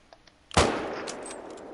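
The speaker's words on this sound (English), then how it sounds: "Oh, I shot over him." A single loud rifle shot fired in a hunting video game, a sharp close crack followed by a decaying echo, with faint clicks just before it.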